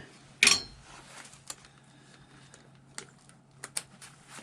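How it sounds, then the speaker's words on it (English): Sparse metallic clinks and taps from bolts being pulled from the oil pan of a John Deere 650 compact tractor during an in-frame rebuild, starting with one sharp clatter and then a few light, scattered knocks in a quiet shop. "got the last couple of bolts to pull out of this oil pan here"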